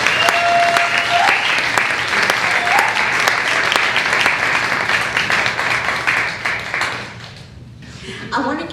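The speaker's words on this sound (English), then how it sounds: "Please applause to Kyle." Audience applause welcoming a poet to the stage at a poetry reading, sustained steady clapping for about seven seconds, with a brief whoop early on, then tapering off into quiet.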